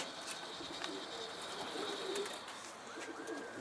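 Pigeons at a rooftop loft give soft, low cooing calls that drift in and out at moderate distance over a steady outdoor background hiss, with a few faint chirps mixed in.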